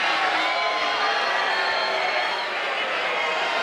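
Crowd noise at the Mosconi Cup pool match, a steady, loud wash of many voices and cheering that holds throughout with no breaks.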